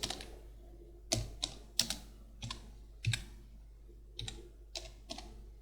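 Typing on a computer keyboard while working in AutoCAD: scattered bursts of crisp key clicks, close and quiet, with short pauses between the groups of strokes and no voices.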